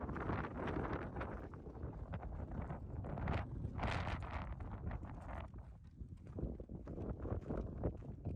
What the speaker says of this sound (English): I'm sure our viewers can't hear a thing over this wind.